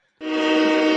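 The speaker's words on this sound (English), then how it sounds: "Let me go ahead and hit that train horn" A train horn blares suddenly after a moment of silence, one loud sustained chord-like blast held steady and close, alone with no voices.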